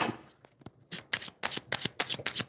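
Tarot cards being shuffled by hand, a run of crisp, rapid riffling bursts that repeat in a steady rhythm after a few soft handling taps, close and fairly loud with no talking.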